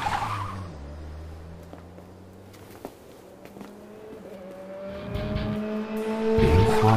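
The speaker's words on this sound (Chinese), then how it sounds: "他们的引擎听起来和之前大不一样" Race car engines in an anime street-racing series snarl with rising revs and bursts of tire squeal, loud and close, building in intensity toward the end.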